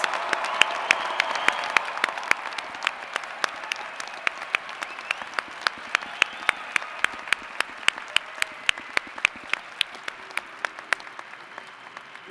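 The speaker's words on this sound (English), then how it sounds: "Please join me in a big round of applause for all of our bachelor's degree" A large crowd at a university winter commencement applauds bachelor's degree candidates, a broad clapping wash with distinct sharp individual claps standing out, gradually tapering over about twelve seconds.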